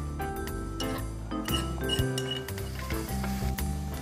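A spatula clinks and scrapes against a pan as pounded chili paste is stir-fried in rice bran oil for Thai seafood tom yum. Rapid, bright metallic clatter runs over a faint sizzle.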